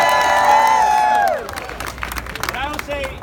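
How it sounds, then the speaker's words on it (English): A rally crowd cheers, whistles and claps for a moment, loud and busy with shouted voices, then the noise breaks off after about a second and a half and scattered voices and calls carry on more thinly. "Let us give him a very big round of applause."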